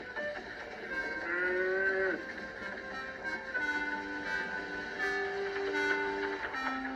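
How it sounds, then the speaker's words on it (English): A cow moos in long, drawn-out calls, three or four in a row, close and fairly loud over a faint low rumble; no talking. ""Moo," said the cow."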